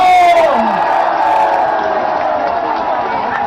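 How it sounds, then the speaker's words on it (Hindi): A large outdoor gathering of students bursts into loud, sustained crowd noise, a continuous roar of clapping with cheers and shouts that starts at full strength and holds throughout. "एक बार अपने लिए जोरदार तालियां बजा दो।"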